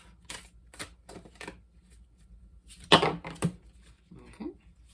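Soft papery slaps and riffles of tarot cards being shuffled, in quick bursts with one louder flurry near the end, fairly quiet and close.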